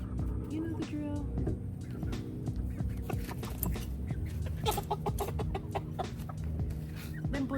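Chickens cluck and squawk in a busy, continuous chorus, with occasional sharper calls rising over the steady farmyard noise.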